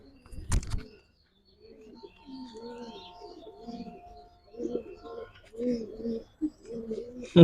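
Several giribaz racing pigeons at a loft coo in repeated soft, rolling calls close by, with a sharp thump near the start and a few brief rustles between calls.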